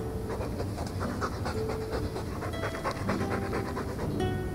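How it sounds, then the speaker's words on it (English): Loud, steady dog panting in a Dragon Age 2 game cutscene: fast, continuous huffing breaths close up and heard alone, with no one talking. "All that noisy dog breath, day in, day out."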